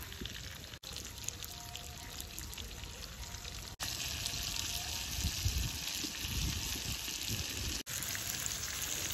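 Rava-coated bangda mackerel fries in oil on a griddle over a village chulha, Aagri style, giving a steady, close sizzle and hiss that swells slightly partway through.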